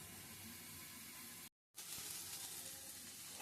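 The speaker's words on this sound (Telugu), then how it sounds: "ఉల్లిపాయలు ఈ విధంగా వేగిన తర్వాత కొంచెం బ్రౌన్ కలర్ వచ్చిన తర్వాత" Onions frying in a pan for stuffed capsicum, a steady close sizzle that cuts out briefly in the middle before resuming just as loud.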